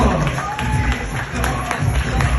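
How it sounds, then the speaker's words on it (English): Audience applause for keynote speaker Dr. Shango Blake at a Ruff Ryderz event, a dense, steady clatter of many hands clapping close by, with crowd noise mixed in. "Let's give him a round of applause."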